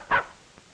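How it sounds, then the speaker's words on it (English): A single short bark from a small dog, sharp and fairly close, followed by quiet room tone, in a 1940 action drama scene. "Are you barking at that little dog?"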